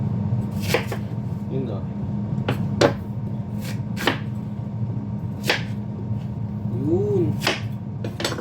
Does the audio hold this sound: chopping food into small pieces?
yes